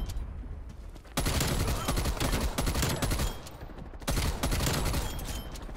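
Gunfire from the KSP 45 in the Call of Duty Cold War video game: two loud, dense bursts of shots a few seconds apart, close and harsh, with a lighter stretch between them and no talking.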